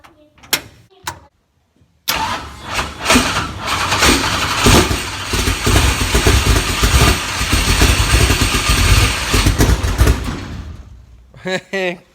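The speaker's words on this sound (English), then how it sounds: "We're gonna give the number 7 hot rod here a cold start." The number 7 hot rod race car engine cold starts after a few brief knocks, then settles into a loud, rough, uneven idle that runs for several seconds before cutting off.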